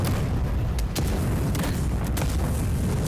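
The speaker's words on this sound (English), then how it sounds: "Grenades, more grenades!" Grenade explosions from the video game Avowed rumble as one continuous loud, deep booming roar with a few sharper bursts on top.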